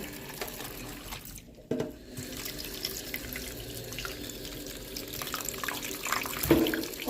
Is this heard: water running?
yes